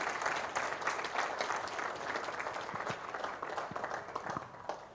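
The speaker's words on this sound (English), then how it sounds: "Come on, a nice applause." An audience at a stage event applauds as guests are welcomed up, a steady wash of many hands clapping at moderate volume from start to end, with no talking heard.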